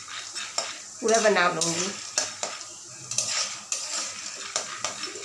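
Corn kernels for caramel popcorn being stirred and roasted in a pan, with scraping strokes and a light sizzle close by, and a woman's brief speech over it.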